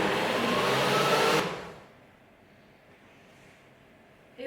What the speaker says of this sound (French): une fois que tout est dans le blender, je vais pouvoir mixer